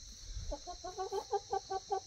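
A backyard flock of four chickens clucks in a quick series of short, regular calls close by, over a faint steady hiss in the background.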